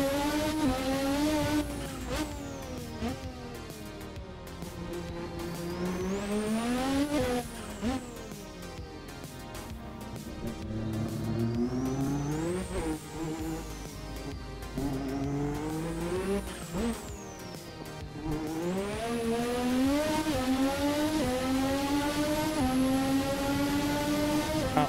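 A race car in a racing simulator game screams at full throttle, its engine note climbing and dropping through repeated gear shifts and corners, with tire noise beneath, loud and continuous throughout.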